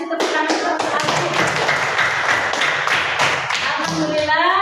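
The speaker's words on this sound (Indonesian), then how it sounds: "kasih tepuk tangan untuk Alfi" A classroom of students applauds a classmate during an Islamic religious studies lesson, with steady, dense clapping lasting several seconds and voices mixed in.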